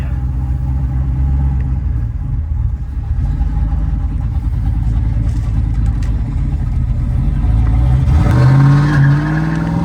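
A turbocharged sleeper car held on the brakes while the engine revs, with a loud, rumbling low drone building to a rising tire squeal near the end, close and intense.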